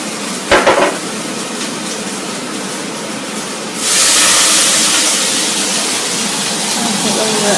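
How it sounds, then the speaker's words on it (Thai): Mama instant noodles stir-fried in a pan at home, a steady hissing sizzle that swells louder partway through as something hits the hot pan, with a brief clatter near the start. "พี่สาวผัดผัดมาม่า"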